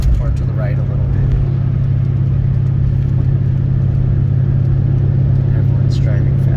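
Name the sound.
2003 Toyota Prius driving on a rough mountain road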